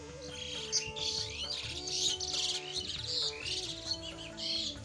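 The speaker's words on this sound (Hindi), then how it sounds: "चिड़ियों की आवाज।" Birds twitter and chirp steadily at a cow shelter, with a string of quick high calls repeating throughout over a low background hum, moderately faint, with no talking.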